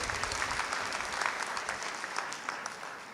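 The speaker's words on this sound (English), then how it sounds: "Can we give our Reverend a big round of applause" A crowd at a spring university graduation ceremony claps in steady, dense applause, loud and sustained throughout, easing slightly toward the end.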